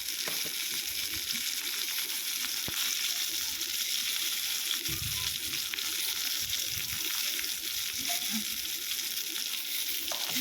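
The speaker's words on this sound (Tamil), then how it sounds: "அப்புறம் தேங்காய் பூ சேர்த்து வதக்கிக்கலாம்" Tomatoes and grated coconut sautéing in a pan for a chickpea kuzhambu, a steady close sizzle with soft stirring scrapes and a brief louder burst around the middle.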